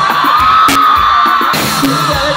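Women in the crowd at a concert in Atuntaqui, Ecuador scream and whoop together, a loud, sustained wall of high cheering with bangs mixed in, close and continuous.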